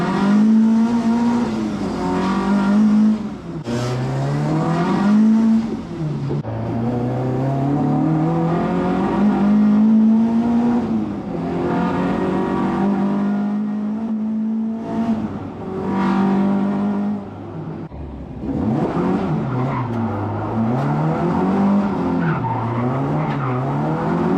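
A Mk1 Ford Escort ST170 fitted with a new limited-slip differential spins doughnuts, its engine revving hard in repeated surges while the tyres squeal and skid loudly and continuously for over twenty seconds.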